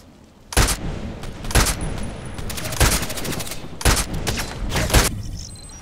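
Gunfire in the video game Contract Wars: about five loud, sharp shots spaced roughly a second apart over a steady background rumble, with no voices.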